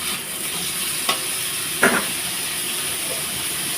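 Salted potatoes fry in a pan for a Bengali pumpkin-green chachori, giving a continuous moderate sizzle broken by two brief stirring scrapes and no talking.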